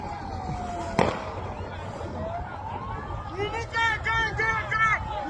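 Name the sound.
police firing tear gas at protesters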